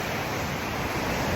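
Wild ocean waves break on an island shore lined with coconut trees, a steady, loud wash of surf noise with no talking.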